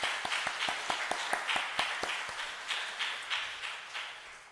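Church congregation clapping during a morning worship service, a few distinct sharp claps in a loose rhythm standing out over softer scattered applause, moderately quiet and tapering over four seconds.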